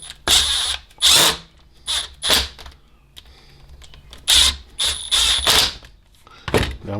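Cordless drill driving screws back into a Milwaukee Sawzall during a repair, several short whirring bursts with pauses between them, close and loud.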